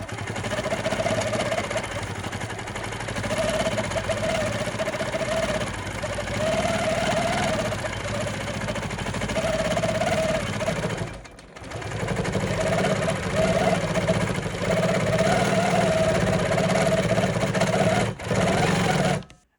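A longarm quilting machine stitches a row of pebble shapes on a quilt-as-you-go fabric strip, giving a steady close mechanical whir with a faint rhythmic tick. The whir drops out briefly twice and then resumes.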